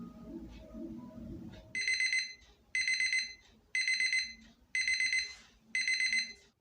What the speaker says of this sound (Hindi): मैंने लगाया था 2 बजे का अलार्म, तो वो भी बोल चुका है